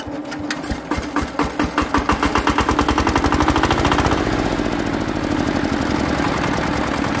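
A D8 single-cylinder stationary engine under repair runs loudly and close, its rapid, regular firing beats steadying into a continuous throbbing drone.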